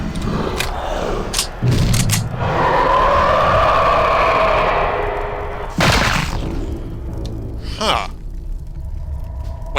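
Grenade explosions in a first-person video game, several loud booming blasts with rumbling tails spread over a few seconds, close and heavy, with no talking.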